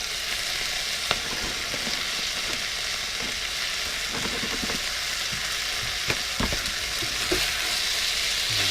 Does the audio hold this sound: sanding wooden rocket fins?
no